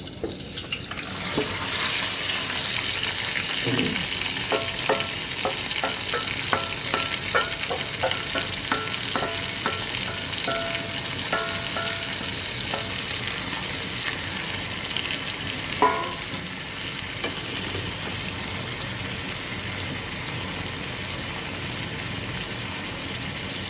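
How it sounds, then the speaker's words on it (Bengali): Marinated chicken fries in a little hot oil in a frying pan for Persian chicken tawa fry, giving a loud, steady sizzle that runs throughout, with occasional clicks and scrapes of stirring close by. "আজকে আমি এটা ফ্রাই প্যানে করছি একটু তেল দিয়ে দিলাম"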